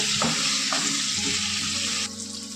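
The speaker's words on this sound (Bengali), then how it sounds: "আলুটাকে ভেজে নেব হলুদ দিয়ে লবণ দিয়ে ভেজে নেব" Potatoes fry in a pan with turmeric and salt, making a continuous, close sizzle with a few stirring knocks, and no talking.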